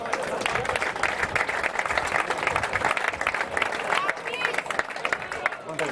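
Lively applause from a crowd at an amateur football awards gala, dense clapping mixed with chatter and voices throughout, loud and continuous.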